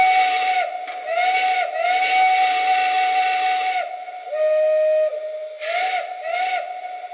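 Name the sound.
model steam locomotive whistle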